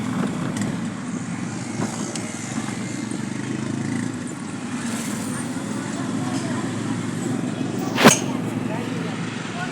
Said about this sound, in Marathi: तर बघा कशी गाडी चालवते